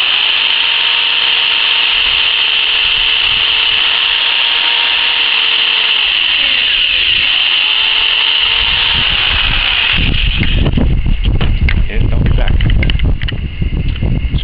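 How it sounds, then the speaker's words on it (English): A steady high mechanical whine from a cordless drill with a keyless chuck runs throughout, then shifts into a rougher grinding, chattering sound biting into material near the end. "Okay, the disc is inside, so I will drill a hole"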